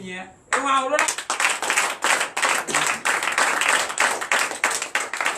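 A church congregation at a night prayer service claims a victory with loud, rhythmic clapping, many hands beating together close by in steady waves after a brief vocal opening.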